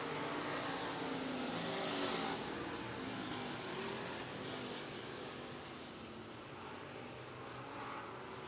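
Stock cars racing on the clay dirt oval at the Clay County Fair Speedway, a loud continuous roar of several engines down the back straightaway, swelling slightly then easing off, with no voices.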